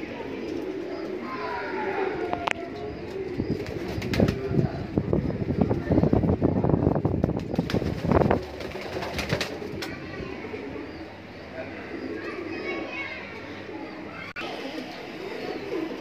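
Afshan grizzle racing pigeons in a loft cooing: repeated soft low coos from several birds, with rustling, wing flutters and light background noise, moderately close.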